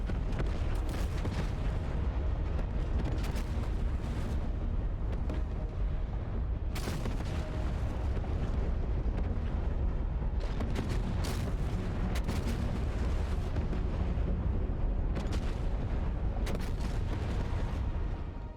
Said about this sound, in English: they arrived to about 9 nautical miles offshore and began shelling the airfield